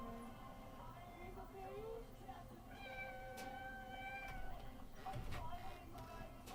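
A cat meows repeatedly in a home crowded with cats and kittens, its calls rising over a busy background with other sounds and faint voices.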